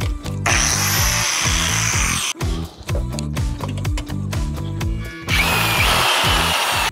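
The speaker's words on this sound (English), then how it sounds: "I'll leave my grinder on and my drill at the same time" An angle grinder and a power drill run together off the power outlets of a Ford F-150 Lightning, a loud whining motor drone with repeated rhythmic strain cycles and brief dips as the tools bog down.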